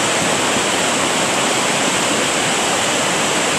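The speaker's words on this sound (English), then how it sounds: "The water is popping up over the top of the bridge and even overflowing on the other side of the bridge, coming across and coming down my little spring drain." Floodwater rushes over the top of a bridge and pours down a road toward a small spring drain during a May 2010 flood, a loud, steady broadband roar with no break and no voices.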